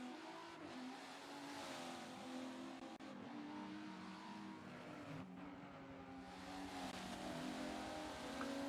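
Sim racing race cars circle Road America, their engines holding a steady, loud drone with shifting pitch and occasional tire noise, and no voices over it.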